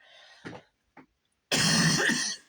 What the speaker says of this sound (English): Oh, of course I'm going to cough.